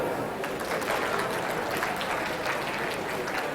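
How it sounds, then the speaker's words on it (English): An audience at a keynote talk claps in a sustained, fairly loud patter of many hands, steady from start to finish with a faint murmur mixed in. "If you can hear my voice, clap."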